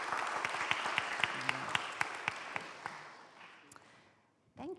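An audience applauds at the close of an evening interview event, with sharp individual claps standing out over a steady crowd patter that fades away, followed by a brief thump at the end.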